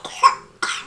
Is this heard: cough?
yes